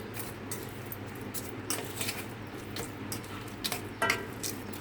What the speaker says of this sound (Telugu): మొత్తం కలుపుకోవాలి శుభ్రంగా.